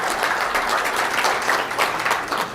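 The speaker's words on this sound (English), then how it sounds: "give him a round of applause" An audience at a financial planning forum applauds a new team member, a dense, even wash of clapping that carries on steadily at moderate loudness from start to finish.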